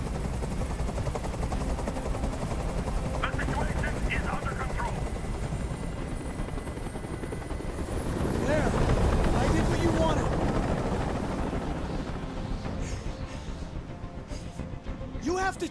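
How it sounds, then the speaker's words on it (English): A video-game helicopter's rotor drones steadily, loud and close, swelling in intensity midway before settling back to a constant thrumming hover during a hostage standoff in Detroit: Become Human. "I can't stand that noise anymore. Tell that helicopter to get out of here."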